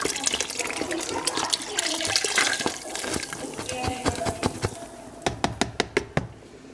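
A 32-ounce carton of beef broth is poured into a soup pot for stuffed pepper soup, giving a close, steady glugging and splashing of liquid that tapers into a few sharp knocks at the end.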